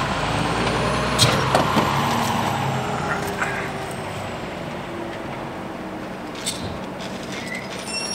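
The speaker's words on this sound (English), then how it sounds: "Yep, the trash truck's coming by now." A garbage truck passes by outdoors, its low engine rumble and road noise holding steady across the clip with a few brief hiss-like bursts, like air brakes, at a moderate distance, and no talk.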